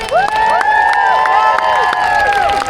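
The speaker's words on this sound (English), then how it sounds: "a big round of applause, please" A festival crowd at Jack in the Green, West Hill, Hastings cheers and whoops loudly for the volunteer marshals, rising voices and sharp claps overlapping in a dense, continuous roar throughout.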